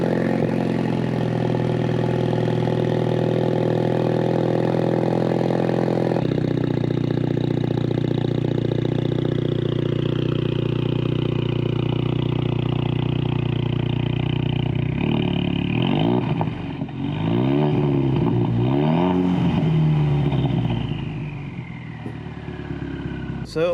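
A Ford EcoBoost car runs with a steady engine drone, then its pitch shifts and wavers as it gets under way, with a voice briefly heard over the engine.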